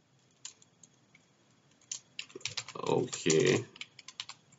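A router command is typed on a computer keyboard in quick bursts of clicking keystrokes, close and fairly quiet, with a brief spoken word in the middle.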